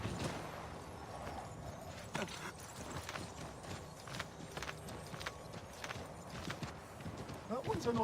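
Horse hooves clip-clop at a steady walking pace in the video game Assassin's Creed 3, with a person talking over them and faint game background sounds.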